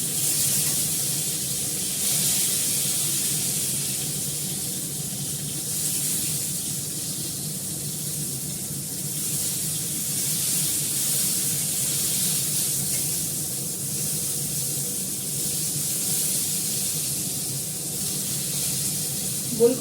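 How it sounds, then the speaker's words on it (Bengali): Round-cut pointed gourd slices frying in oil in a home kitchen, a steady, continuous hiss and sizzle that stays even for the whole stretch, with no voices. "গোল করে পটল কাটা তো একটু ঘুরিয়ে ঘুরিয়ে ভাজতে হচ্ছে"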